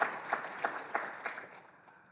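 Audience applause at a university awards ceremony as an institution is named, a sparse patter of claps with a few sharper peaks, moderately close and tapering off over a couple of seconds.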